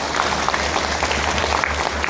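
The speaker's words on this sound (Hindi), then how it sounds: "तालियों के बीच मैं इनवाइट कर रहा हूं आरसीएम बिजनेस के पर्ल और स्टार पर्ल अचीवर्स को" Loud, dense applause from an audience at an RCM Business gathering welcoming Pearl and Star Pearl achievers, a continuous wash of many hands clapping close by.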